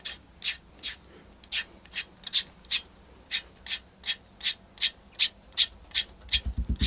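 Pedi paddle filing hard skin on a foot, a steady series of short, rhythmic rasping strokes, close and fairly loud, with no talking.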